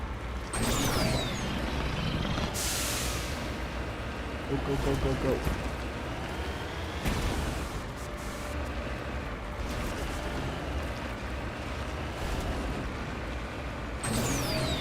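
Game vehicle from Mass Effect Legendary Edition straining uphill, a continuous engine drone with hisses and thumps, while a person urges it on over the sound.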